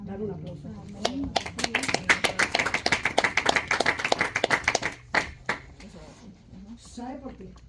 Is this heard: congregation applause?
yes